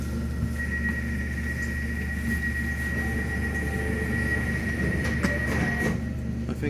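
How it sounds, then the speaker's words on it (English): Elizabeth line train running between Shenfield and Liverpool Street, a steady interior rumble and hum with a faint high whine throughout and occasional light clunks, no talking. "This is the train to Liverpool Street."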